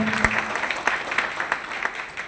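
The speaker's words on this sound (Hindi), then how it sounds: "ताली बजाकर भी स्वागत करें" An audience claps to welcome arriving guests at a community gathering in a banquet hall, steady close applause with distinct individual claps throughout.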